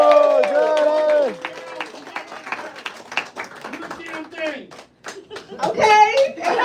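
A stand-up comedy audience clapping for the next comic, with scattered handclaps breaking through while people talk and call out over them, then a louder voice near the end.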